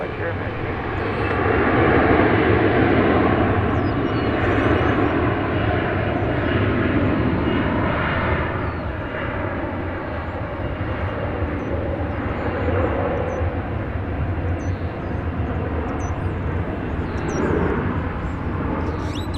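Airliner idling on the taxiway at DFW Airport in a queue for takeoff clearance, a steady broadband engine roar holding at a constant level throughout, heard from a distance outdoors.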